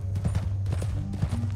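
Horse hooves clip-clop steadily at a walking pace in Red Dead Redemption 2, a soft, moderately distant rhythmic clopping over a low ambient hum.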